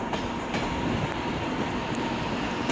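Class 323 electric multiple unit pulling out of Manchester Piccadilly station, a steady nearby rail rumble with faint clickety-clack of wheels over joints, continuous and fairly loud with no voices.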